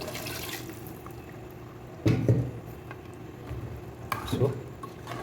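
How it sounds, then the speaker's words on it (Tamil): Water poured and stirred into a Hyderabadi beef curry gravy, heard as two short splashing, stirring bursts a couple of seconds apart over a steady low background. "ஸோ நம்ம தண்ணி கொஞ்சம் மிக்ஸ் பண்ணிக்கலாம். இதில் ஊற்றுனது."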